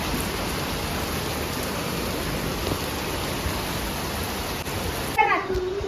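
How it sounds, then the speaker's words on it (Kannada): Steady, dense rain falls outside for several seconds as a broad wash of noise, with a voice and other people talking near the end. "ಅದಾಗ ಮಳೆ ಬರ್ತಿದೆ ಗೈಸ್"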